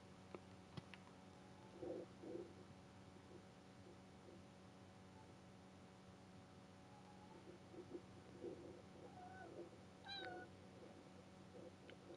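A cat meows several times during a nightmare, soft brief calls scattered over a quiet background hum, a couple of them higher and more drawn out near the end.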